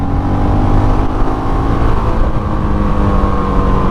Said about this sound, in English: Let's just give it a little bit of throttle.